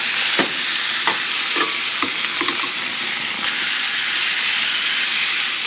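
Steaks sizzling loudly in a hot skillet, a dense continuous frying hiss broken by several sharp scraping clicks as tongs flip the meat, close and without talk.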